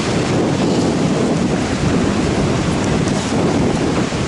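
Strong wind blows steadily across an open hiking trail near windmills under a grey sky, a constant loud roar buffeting the microphone with no voices.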